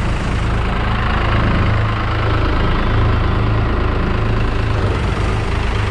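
A heavy New Holland tractor engine idles and chugs steadily at close range, a constant low throbbing drone with no voices.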